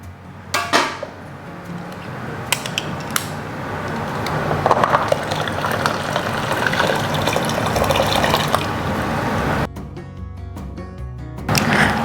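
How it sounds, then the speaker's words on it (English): Hot canning jars lifted out of a pot of hot water while making salsa, with sloshing, dripping and gushing water and a few sharp clinks of glass against metal, close and fairly loud throughout. "So I'm gonna take the jars out."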